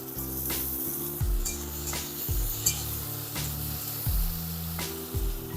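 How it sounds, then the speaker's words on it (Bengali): Onions and tomatoes frying in a pan, with a steady sizzle under repeated scrapes and clinks of a utensil stirring against the metal pan, close and moderately loud. "সোনালি করে পেঁয়াজটা ভাজা হয়ে গেছে টমেটোগুলো দিয়ে দিচ্ছি"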